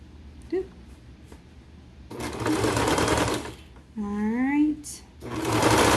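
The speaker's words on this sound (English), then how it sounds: "put this under the serger here" A serger stitches jogger fabric in two short mechanical bursts of rapid whirring, close by and fairly loud, with a person talking briefly between them and soft handling noises before.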